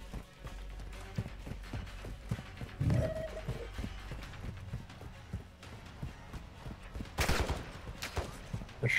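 Scattered gunshots and bursts of fire in Call of Duty: Modern Warfare II, irregular and mid-distance, with one loud sharp crack near the end, set over busy game ambience and faint background voices.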